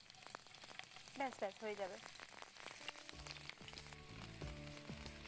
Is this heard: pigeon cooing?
no